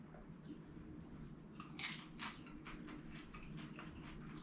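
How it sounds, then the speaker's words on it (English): A person bites into a nacho chip from a Taco Bell menu item, giving a few faint, short crunches over a low, steady room hum. "You can hear him. A little crunch."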